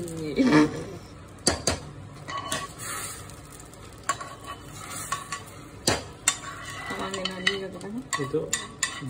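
Someone stirs vermicelli payesh in milk with cardamom and ghee, producing intermittent scraping clinks of a spoon against the pot over a soft simmering hiss, with a few brief voices.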